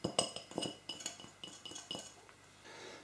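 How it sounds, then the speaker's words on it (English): A spoon stirring a salmon and spinach bake mixture with lemon zest and dill in a baking dish, a series of light clinks and scrapes at an uneven rhythm, close and quiet, easing off toward the end. "I'm just going to give that a quick stir."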